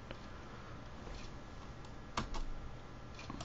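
A single soft keystroke on a computer keyboard as the delete key is pressed, a faint quiet click standing out against low background hiss, with a few fainter taps around it.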